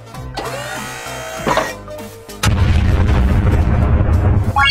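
Cannon bullets fire at Zomboss in a mobile video game, a burst of loud, dense booming gunfire that starts midway and keeps pounding steadily to the end after a quieter stretch of game music and effects.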